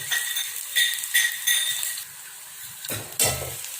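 Onions sauté in a pan for a tomato thokku, sizzling in bursts as a spoon stirs and scrapes, with light metallic clinks against the pan, close by and without talk.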